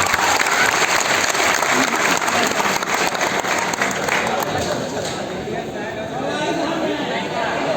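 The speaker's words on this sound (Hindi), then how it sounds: "एक बार जोरदार तालियां बजाइए।" Loud applause from a crowd at a teachers' meetup and cake-cutting in Patna, steady dense clapping for about eight seconds with chatter and voices mixed in, easing slightly toward the end.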